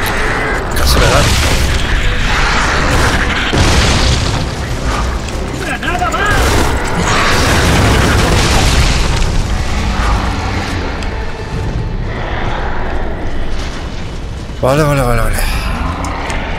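Grenade explosions in Gears of War 3 boom and crunch among dense, loud mechanical game noise over a long stretch, with overlapping blasts and clanking, while voices talk throughout.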